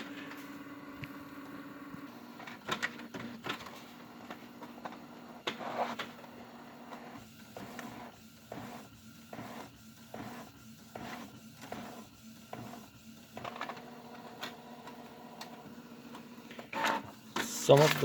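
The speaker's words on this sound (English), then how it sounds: "we're gonna say print nozzle check pattern" A Canon inkjet printer runs a nozzle check pattern, its print head shuttling back and forth in a regular series of short mechanical bursts, fairly quiet, with a person talking at times.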